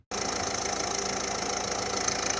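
A car engine idles steadily with the headlights on during an alternator test, a close, even hum with a slight ticking knock that goes on without pause once it starts.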